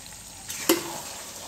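Chicken sizzles in a pan as tomato ketchup is added: a sharp, loud burst of frying hiss that flares suddenly, then settles into a softer crackle.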